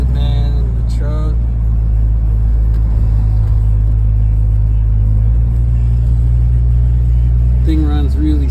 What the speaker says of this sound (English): this is a little cruise through the neighborhood, man, in the truck